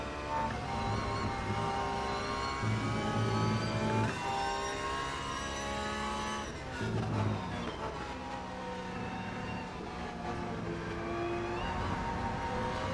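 A race car engine in the Rennsport sim racing game, heard as loud rising and falling revs with shifting tonal pitch as it changes gear, continuous and close with no talk.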